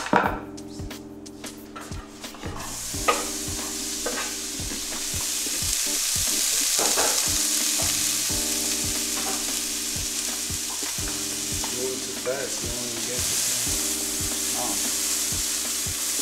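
Onions frying with garlic in a pan, a dense sizzle rising after a few opening clatters and continuing steadily with occasional stirring scrapes, over a faint background hum and no speech.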